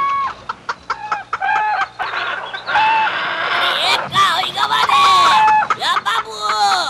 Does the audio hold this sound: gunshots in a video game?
no